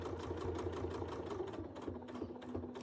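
A sewing machine runs in a rapid, even stitching rhythm while free-motion quilting a quilt, close and fairly quiet, with a brief change in motor tone partway through.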